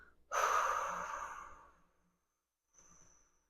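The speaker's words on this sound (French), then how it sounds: "Respirer profondément, ça commence par souffler." A deep breath drawn in and let out as a loud, forceful exhale lasting over a second, then a short, softer breath after a pause, alone with no talking, during a chest-opening breathing exercise.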